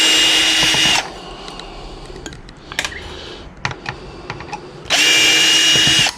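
A power drill whirs loudly in two sustained bursts, backing screws out of a large TV during scrapping, with clicks and clatter of parts and handling between the bursts.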